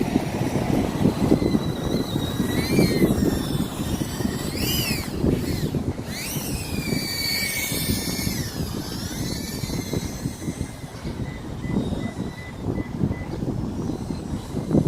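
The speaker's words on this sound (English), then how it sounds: "Sheesh, it's windy out here." Strong gusts buffet an outdoor microphone, producing a constant loud rumbling roar, while the high, whining buzz of a small TinyHawk S FPV drone's motors rises and falls in pitch above it.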